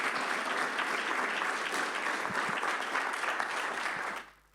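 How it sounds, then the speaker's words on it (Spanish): Steady audience applause in a university cultural forum hall after a talk on entrepreneurship and philosophy, loud and continuous before dying away at the end. "Un aplauso"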